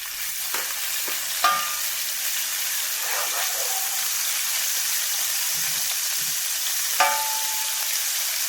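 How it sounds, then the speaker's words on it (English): Garlic ginger paste sizzles and fries in a pan for a chicken vindaloo, a steady hiss with a few sharp scraping clicks from a utensil. "So now we're going to add our garlic ginger paste."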